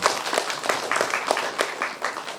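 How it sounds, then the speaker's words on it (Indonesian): An audience at a regional farmers' group inauguration event in Lampung claps together, a dense close burst of applause with slightly rhythmic beats, with no voices over it. "Saya sampaikan, tepuk tangan."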